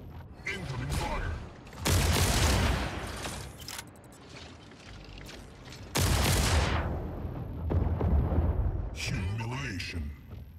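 Mech weapons firing in the video game Mech Arena, loud bursts of gunfire that surge and fade in heavy waves, with game voice announcements over the top.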